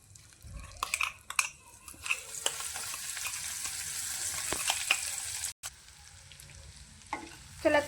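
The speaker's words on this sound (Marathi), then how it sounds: "चला तर मग हा मसाला चांगला फ्राय करून घेऊया" Spice paste sizzling and frying in a little oil with cumin and mustard seeds, a steady close crackle with intermittent stirring clatter and a brief drop near the end, no voices.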